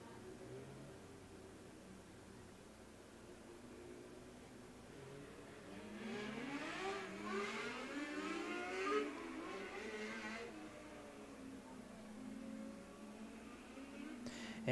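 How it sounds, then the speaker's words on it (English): Race cars at Coles County Speedway rev and spin their tires on track fluid during a caution, engines rising and warbling in the middle distance over a faint steady background hiss. "as they try to spin their tires on the fluid"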